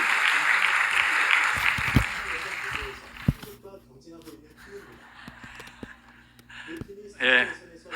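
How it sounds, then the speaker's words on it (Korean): Church congregation applause welcoming the pastor, a brief burst of clapping at the start that fades within a few seconds into quiet shuffling and soft speech. "우리 따뜻한 마음의 박수로 우리 목사님을 모시도록"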